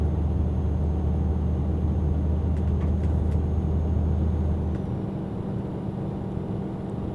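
A heavy truck hauling an 18-ton lubricant load in Euro Truck Simulator 2 drones along with a low, continuous engine rumble, steady for several seconds before the deepest hum drops away slightly, with faint clicks in the middle.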